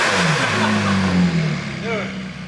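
A wrecked McLaren 675LT engine revs hard, its tone climbing and falling in a loud, close roar, with people talking over it.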